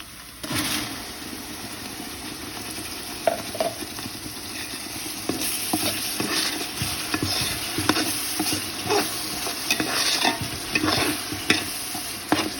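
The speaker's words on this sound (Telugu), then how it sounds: "అల్లం గార్లిక్ పేస్ట్ కొంచెం పచ్చిపోసన పోయేంత వరకు ఫ్రై చేసుకున్న తర్వాత ఇప్పుడు ఈ పేస్ట్ ఇందులో వేసుకోవాలండి" Ginger garlic paste fries in a pan with a continuous close sizzle, broken by frequent stirring scrapes and taps of a spoon against the pan.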